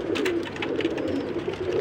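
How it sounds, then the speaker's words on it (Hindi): Sialkoti pigeons coo in a rooftop loft, a close, continuous low rolling burble that pulses steadily and stays fairly loud, with no talking over it. "ये जोड़ा सियालकोटी कबूतरी है।"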